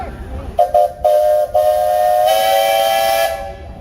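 A steam engine whistle sounds at a steam engine show in Sycamore, Illinois: a few short toots, then one long, loud, clear blast that fades out near the end.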